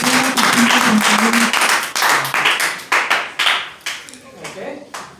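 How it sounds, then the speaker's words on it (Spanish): A church congregation gives a loud burst of clapping during a sermon, dense and close at first, then thinning into scattered separate claps that fade out, with a voice speaking over the opening. "Dale un fuerte aplauso a Cristo"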